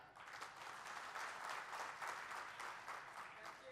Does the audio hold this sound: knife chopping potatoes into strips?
no